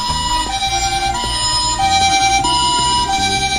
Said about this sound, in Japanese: いっぱい光って音が鳴るパトカーだよ